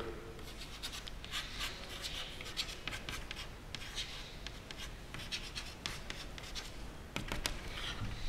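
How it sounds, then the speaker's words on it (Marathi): Handwriting a math rule on paper, a steady scratch of pen strokes running throughout with short rhythmic bursts, close and moderately quiet with no talk. "इथं नियम लिहितो आहे"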